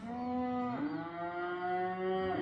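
A single cow in a field lets out a long, deep moo that holds steady and then shifts slightly in pitch, close and clear with no talking.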